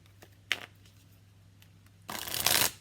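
Tarot cards are shuffled close by: a brief riffle near the start, then a louder, sustained burst of shuffling toward the end, with a steady low hum underneath and no talking.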